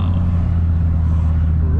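A Volvo S60R with a straight-pipe exhaust drones loudly, a deep steady exhaust rumble held close and constant, with someone talking over it.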